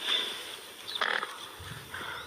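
A pig grunts outdoors in a few short, rough bursts against a quiet background. The grunts are moderately close and are not overlapped by speech.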